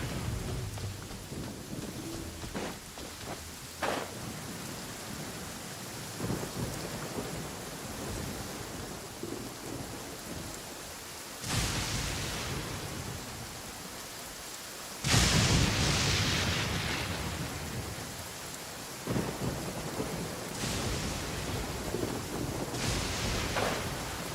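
Rain and thunder in Genshin Impact, with steady rainfall and several sharp thunder cracks breaking in followed by rolling rumbles, loud and close, no voices.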